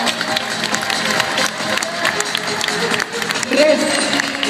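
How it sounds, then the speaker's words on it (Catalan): Crowd applause at an outdoor karate exhibition at a Christmas park in Tarragona, loud and busy clapping mixed with crowd noise and some voices, swelling slightly near the end. "Bon aplaudiment del Karate Club Xuto."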